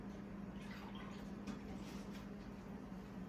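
A small splash of water poured over stuffed peppers with turkey and brown rice, a soft steady trickling and dripping that runs quietly through the whole moment.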